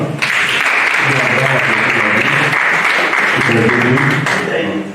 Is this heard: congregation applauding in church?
yes